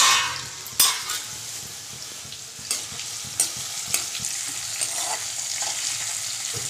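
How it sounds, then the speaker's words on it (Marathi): Ginger garlic paste and bay leaves sauté in hot oil for a home-style chicken curry, giving a steady close sizzle broken by a few sharp scrapes and clinks of a spoon stirring the pan. "आलं लसूण पेस्ट, तमालपत्र चांगली परतून घेतली आहे."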